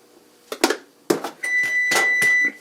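An oven signalling it has finished preheating: a few short clicks or knocks, then a sustained electronic beep tone with pulses, close by in a quiet kitchen.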